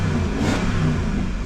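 A V8 car engine runs at a steady, loud rumble with a mild swell of revving about halfway through, heard close up and alone without any talk.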